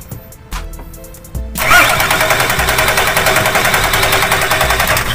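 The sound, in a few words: Nissan Patrol GQ TD42 diesel engine starting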